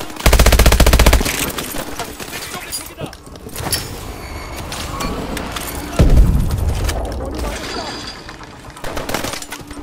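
Heavy automatic gunfire and a booming grenade explosion in Call of Duty: Advanced Warfare, dense rapid bursts up front, then a deep blast midway followed by more scattered shots and battle noise.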